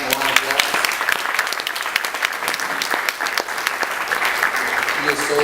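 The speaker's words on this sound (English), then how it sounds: "Let's give Adam a round of applause." Audience applause at a university campus event at McNeese State University, steady dense clapping throughout, moderately loud and continuous with no break.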